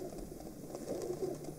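A pigeon coos softly in the street scene of the video game Youtubers Life 2, a few low throaty calls over a faint ambient background.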